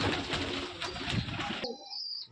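Pigeons in a loft, with soft cooing and brief wing flutters over a busy background, then a quieter stretch with a faint high tone.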